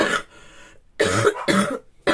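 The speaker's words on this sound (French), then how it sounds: "vous allez m'entendre constamment tousser" A woman coughs in three separate fits, each a burst of harsh, close coughs with short pauses between.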